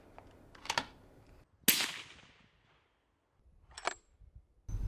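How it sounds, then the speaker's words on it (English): A Remington 783 .223 varmint rifle fitted with a moderator fires a few separate suppressed shots, each a sharp crack followed by a short decay, spaced apart with quiet gaps between them. "So we've had our first few shots"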